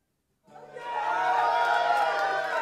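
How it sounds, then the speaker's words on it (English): A cartoon crowd bursts into a big cheer for brave firefighters, rising from silence into a sustained, fairly loud roar of voices that holds to the end. "the crowd let out a big cheer for the very brave firefighters"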